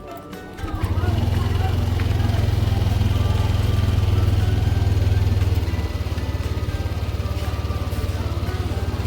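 A Yamaha Aerox scooter engine idles steadily up close with a low, even, pulsing throb, dipping slightly in pitch partway through as the idle is brought down after error 12 and error 37 faults were cleared.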